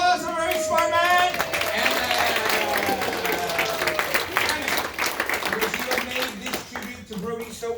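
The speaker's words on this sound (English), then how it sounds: "Everyone give applause for a very smart man." A celebration-of-life gathering breaks into sustained audience applause, dense clapping from a sizable crowd with cheers and voices mixed in, tapering slightly toward the end.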